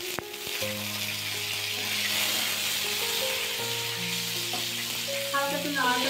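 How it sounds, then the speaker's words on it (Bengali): Tomatoes fry in oil with cumin and dried chilli, giving a constant close sizzle with light stirring while soft tonal music plays beneath. "হালকা একটু নাড়াচাড়া করে নিতে হবে টমেটোটা"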